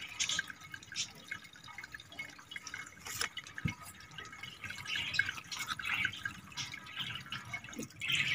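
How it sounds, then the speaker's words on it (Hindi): Water trickling and dripping onto fresh dracaena plant cuttings, a faint, irregular patter of small drips and splashes that runs steadily throughout, close by with light background noise and no talk. "तो ये देखिए अब इन पर पानी अप्लाई कर दिया मैंने।"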